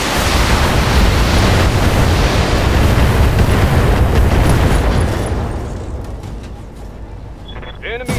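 Mech weapons fire and explosions in BattleTech merge into a dense, loud, sustained roar of blasts that gradually eases off, with a few whooshing tails near the end.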